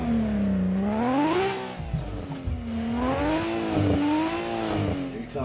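A race car in the Assetto Corsa video game at Forest Park, its engine whining loudly with pitch rising and falling through gear changes as it draws close, with a brief tire squeal.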